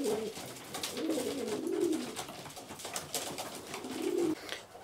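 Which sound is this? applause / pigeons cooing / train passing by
pigeons cooing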